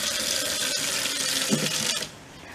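Water runs steadily from a household tap at good pressure, a loud close rushing hiss that cuts off near the end, leaving a quieter background.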